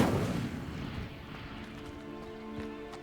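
An Incendio fire spell in Hogwarts Legacy bursts with a loud, booming whoosh at the start that then decays into a lingering, resonant crackling tail, alone without talk.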